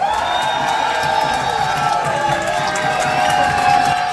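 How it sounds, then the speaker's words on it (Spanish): In a talent show studio, the audience keeps up a brief, even burst of cheering and clapping for Juan Camilo's group, with scattered shrill whoops over the crowd noise. "Y también fuertes los aplausos para el grupo de Juan Camilo"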